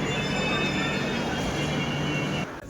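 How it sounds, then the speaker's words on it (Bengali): A Jan Shatabdi passenger train pulling into a railway station, a loud, close, continuous rumble of wheels and carriages that holds steady for over two seconds before dropping off abruptly near the end. "ট্রেন ঢুকে গেছে স্টেশনে"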